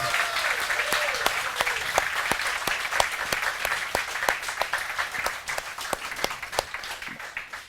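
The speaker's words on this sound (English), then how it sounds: "give him another round of applause" A crowd at the DSCL Invitational 2015 tournament finals applauds the winner with sustained clapping. A few sharp, distinct claps stand out near the microphone, and faint voices call out early on.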